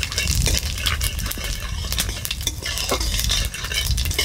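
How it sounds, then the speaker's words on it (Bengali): Cumin seeds sizzle in hot oil in a pan with a loud, continuous frying hiss, close up, while a utensil scrapes and stirs in quick irregular strokes; no voices. "তেল আমাদের গরম হয়ে গেছে, এখন এর মধ্যে সাদা জিরা দিয়ে দেব।"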